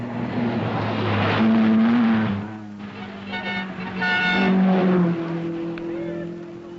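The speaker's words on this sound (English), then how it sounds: "Andrew Cowan and Johnston Sire, 2 Scotsmen in the Mercedes 280 Saloon" A Mercedes 280 saloon rally car drives on the Safari Rally, its engine droning loudly with a whining tone that rises and falls as it revs and shifts.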